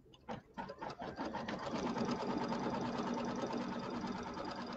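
An embroidery sewing machine stitches a placement line for fabric on a Christmas quilt block, starting with a few quick separate stitches, then running as a steady, close, continuous mechanical whir.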